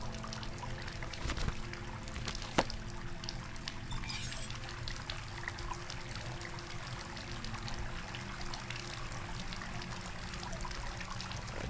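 In the video game Asylum, water pours and trickles through pipes in a steady, continuous rush at moderate volume, joined by a couple of brief knocks, with no talking.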